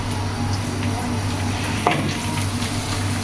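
Chopped onions frying in hot oil in a kadai, stirred now and then: a steady close sizzle with faint scraping and a brief clink partway through, no voices.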